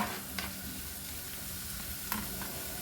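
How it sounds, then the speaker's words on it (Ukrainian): Onion and sweet pepper sizzle steadily in a hot frying pan, a constant frying hiss with a couple of faint clicks from stirring. "Цибуля смажиться."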